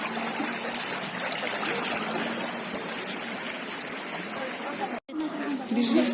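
Floodwater rushes steadily through a flooded residential yard, a loud continuous broadband wash with a brief cut near the end, while a voice speaks over it.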